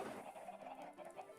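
Chickens in Minecraft cluck softly in a brief burst, faint and close, with no voices over them.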